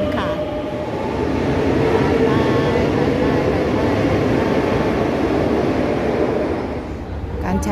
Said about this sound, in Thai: การใช้บริการรถไฟใต้ดินสาธารณะที่เมืองมาดริดประเทศสเปนนะคะก็เป็นที่นิยมมาก